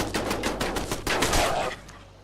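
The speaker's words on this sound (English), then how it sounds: "Machine gun turret." A machine gun turret fires in Fallout 76, a rapid close burst of evenly spaced loud shots for about two seconds that then cuts off.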